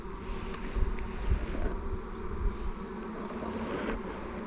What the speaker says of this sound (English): They've all been quite calm bees today